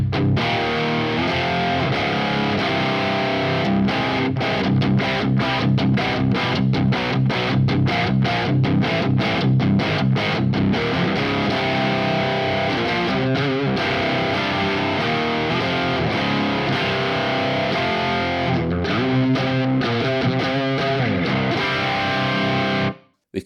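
An electric guitar played through a Quad Cortex amp model with delay and reverb, loud and distorted, with continuous riffing, short choppy stops and sustained ringing chords.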